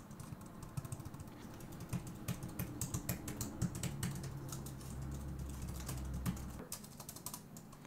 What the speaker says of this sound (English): it'll take some time to get used to when typing on this keyboard